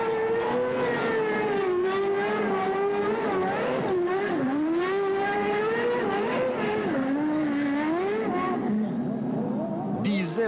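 Race car engines scream around a track, their pitch sweeping up and down in continuous wavering whines as the cars accelerate and ease off, steady and fairly close throughout.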